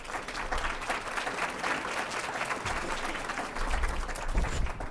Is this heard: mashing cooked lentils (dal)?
no